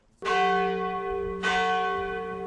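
Two loud strikes of a church bell, each ringing out and sustaining with a long humming decay.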